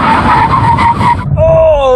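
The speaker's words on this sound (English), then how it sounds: "When we hit the line, full emergency stop." Tyres skid hard under a full emergency stop from 70 mph in a brake test among a Supra, Cayman GTS, TT RS and Alpine A110, a loud rising screech that pitches up sharply toward the end.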